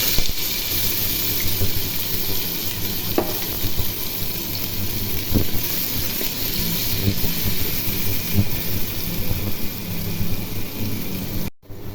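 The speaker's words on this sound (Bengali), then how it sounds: "এখন পেঁয়াজগুলো ভেজে নিব।" Chopped onions fry in hot oil for a beef curry with crisp fried onions, giving a steady, dense sizzle that crackles on throughout with no voices.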